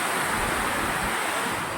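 Water spilling over the overflowing Ghee dam spillway at Jam Khambhalia makes a loud, steady broadband roar with no break, and wind buffets the microphone throughout.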